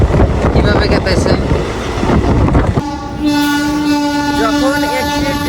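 Passenger train running on rails in West Bengal, a loud rumbling clatter close by that gives way to a sustained blaring horn as the train takes a bend, with faint voices under it.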